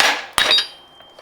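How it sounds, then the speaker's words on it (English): Two quick metallic hammer taps knock an old OEM bushing out of an E30 coilover, a sharp clink followed by a second strike, then faint ringing decay. "just grab your trusty hammer"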